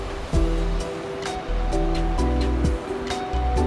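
A river rushing through Kumrat Valley makes a steady, dense roar of flowing water that holds at an even level throughout, with faint tonal sounds drifting over it.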